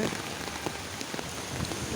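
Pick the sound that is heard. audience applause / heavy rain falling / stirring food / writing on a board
heavy rain falling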